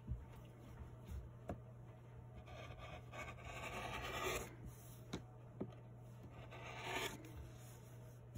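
Scissors snip and rasp through pieces of fabric for an in-the-hoop embroidered flat dog project, a close run of scraping cuts with a few sharp clicks over a steady low hum, with no talking.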